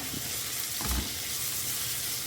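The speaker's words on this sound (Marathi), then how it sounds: "सो आतां घालता हांव कांदे." Onions frying on a low flame in a pan for samosa stuffing, a soft steady sizzle with a brief stirring clatter near the middle, close but faint.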